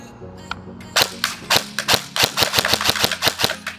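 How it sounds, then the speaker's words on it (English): A KWA EVE 4 airsoft gun fires a run of sharp, snappy shots, first a few spaced pops and then a quicker string of about a dozen close, crisp cracks with no talking. "We got our trigger ready to go"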